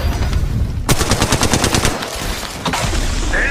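Automatic gunfire in the mobile shooter Apex Legends Mobile: a rapid, loud burst of close shots in quick succession that rattles steadily for a couple of seconds, then a brief lull before more firing resumes over game background noise.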